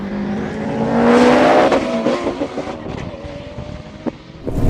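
Subaru Impreza WRX and Nissan R34 Skyline launching in a roll race, loud engines revving up and accelerating hard, the roar rising then fading slightly as the cars pull away.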